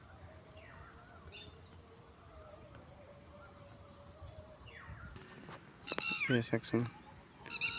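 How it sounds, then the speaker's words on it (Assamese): Village birds chirp and twitter in short, bright bursts, loudest toward the end, over steady outdoor background hum, with someone speaking briefly. "চৰাই চিৰিকটি কি ধুনীয়া মাত"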